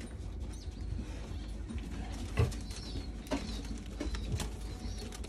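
Pigeons in a racing pigeon loft, including a nesting hen, give faint, low cooing amid quiet background rustle, with a few brief soft thumps.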